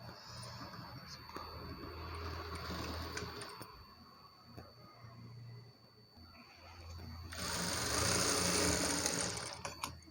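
A sewing machine stitching a blouse whirs in short bursts with quiet pauses between runs, then a louder, faster run near the end.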